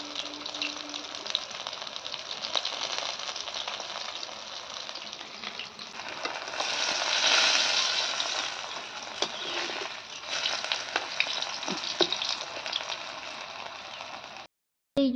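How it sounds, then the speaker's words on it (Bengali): Kakrol leaves stuffed with masoor dal paste fry in hot oil, a steady broadband sizzle that swells midway and carries scattered crackles before cutting off near the end. "তো দেখো এইভাবে ভেজে নিতে হবে পাতাগুলোকে"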